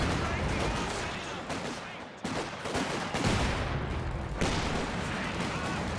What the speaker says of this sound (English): taking the full effect of that infantry support gun and also this flamethrower